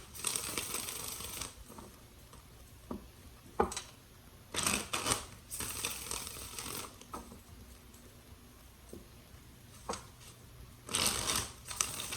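Tarot cards are shuffled in repeated bursts of rapid riffling and slapping, close by, separated by quieter handling noises.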